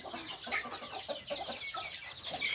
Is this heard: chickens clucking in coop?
yes